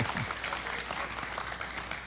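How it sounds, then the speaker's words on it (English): A church congregation clapping after a praise moment, a fairly soft, even patter of hands that holds steady throughout with no voices over it. "Now you can clap again."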